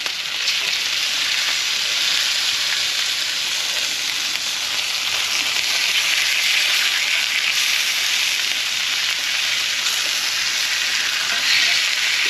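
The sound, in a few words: lamb pieces frying in a skillet after being flipped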